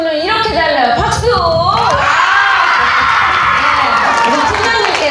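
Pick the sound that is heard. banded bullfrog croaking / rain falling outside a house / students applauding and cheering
students applauding and cheering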